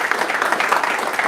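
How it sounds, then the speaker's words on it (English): Audience applause at a talk, a dense, steady wash of clapping from a roomful of people, loud and continuous without a break. "Just keep applauding for 1 hour."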